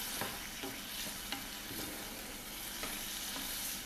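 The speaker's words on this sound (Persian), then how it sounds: "یک کمی هم میزنم" Saffron is stirred into a sautéed mixture in a pan while cooking Persian shirin polo. A spoon scrapes in a regular rhythm about every half second over a constant low sizzle, and no one speaks.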